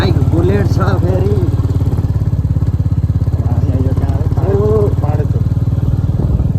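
A Royal Enfield Bullet motorcycle rides along a road with a loud, steady, rapid engine thump throughout, and a voice talks over it.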